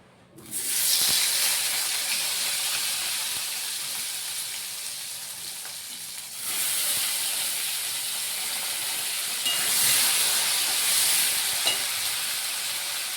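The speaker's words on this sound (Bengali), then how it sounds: "এবার আমরা এই মাছ ভাজার তেলে এখানে আমরা বেগুনগুলো লাল করে ভেজে নেব" Brinjal pieces frying in leftover oil from frying bhola fish, a loud, steady hissing sizzle that swells when fresh pieces go in and again near the end, with no talk.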